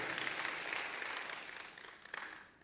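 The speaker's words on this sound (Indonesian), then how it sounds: "Berikan tepuk tangan untuk Tuhan." A church congregation at a Sunday worship service breaks into applause, a steady crowd of clapping heard at moderate distance that holds evenly and thins slightly toward the end.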